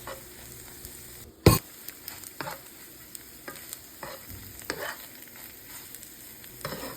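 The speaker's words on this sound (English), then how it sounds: "So yeah, I'm just mixing the egg." Eggs being whisked in a bowl for breakfast, a steady scraping stir with light clinks and one sharp knock near the start, close and clear, with a faint sizzle of frying underneath and no talking.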